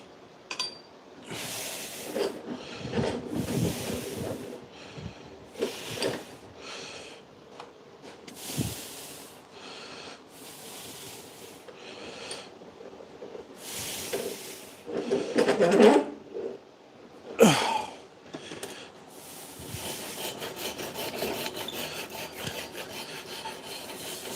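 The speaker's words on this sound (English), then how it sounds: "Now just gotta run them on the roll on the grinder." A roll grinder sands down a batch of handles, giving a rough, raspy rubbing sound in repeated bursts as each piece is pressed to the spinning roll, with brief pauses between passes.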